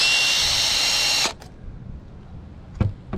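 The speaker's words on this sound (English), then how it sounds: "I'm going to start by drilling a little pilot hole to mark the area." A power drill whines at high speed for about a second, drilling a small pilot hole in a Sprinter van roof, then stops, followed by a few light clicks and handling taps.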